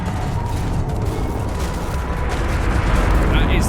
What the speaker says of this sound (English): That is the sound of our ship going into orbit.